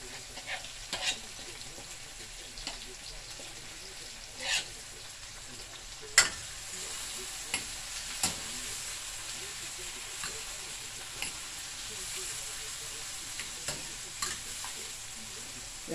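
Scallion and thyme frying in a pot for Jamaican brown stew perch, a soft continuous sizzle broken by a series of sharp stirring clinks and scrapes every second or two, fairly close.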